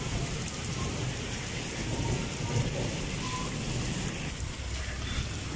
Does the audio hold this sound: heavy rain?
yes